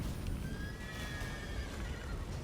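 A horse in the video game Witcher 3 whinnies in a long, wavering neigh over a steady low rumble, with no voices.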